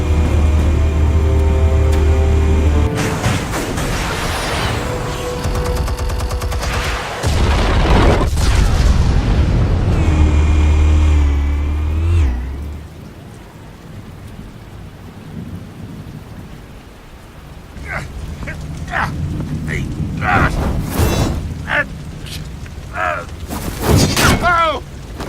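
Heavy booming explosions and rumbling blasts with crackling bursts in the video game Batman: The Telltale Series, loud and close, broken by a quieter stretch before more sharp detonations.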